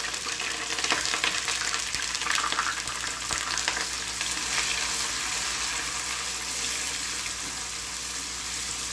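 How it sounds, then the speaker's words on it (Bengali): Onions, cardamom and cinnamon frying in oil for a biryani, a loud continuous crackling sizzle that settles slightly over time, close up with light stirring, no speech. "দিয়ে দিলাম এলাচ, দারচিনি, আর এর ভিতরে দিয়ে দিলাম পেঁয়াজ"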